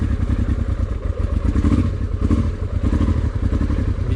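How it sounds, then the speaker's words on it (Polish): Motorcycle fitted with a Trail Tech Voyager GPS, its engine running close by and loud while warming up, a continuous low clattering throb with small swells in revs and no talking. "Wezmę motocykl, niech się rozgrzewa"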